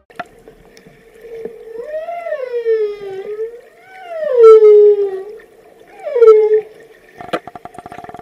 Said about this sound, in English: Humpback whales are known for their beautiful and complex songs